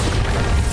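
Bombarda explosion spell from Hogwarts Legacy gameplay on Nintendo Switch, a loud, short, heavy burst with deep rumbling low end, lasting under a second.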